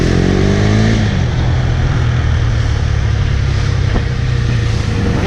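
A 2017 KTM Duke 390 single-cylinder motorcycle on a Bangalore road revs up over the first second, then settles into a loud, close, continuous exhaust roar.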